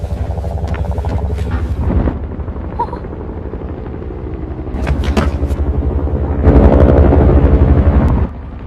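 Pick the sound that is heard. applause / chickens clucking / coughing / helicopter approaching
helicopter approaching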